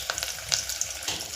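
Brief, close hiss and crackle of whole peeled garlic cloves frying in oil in a pan, with small spitting pops over a steady sizzle.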